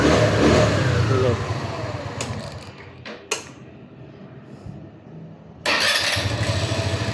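A Motoposh EVO Deluxe motorcycle, not run for three months, revs loudly, drops to a low idle with a single sharp clack, then roars back up in a strong rev, heard up close.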